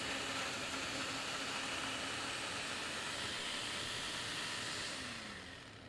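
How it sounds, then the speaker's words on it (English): A blender runs continuously while making a berry banana smoothie at a state fair, giving a loud, steady broadband whir that fades slightly at the end, with no talking over it. "This is our first time using this blender"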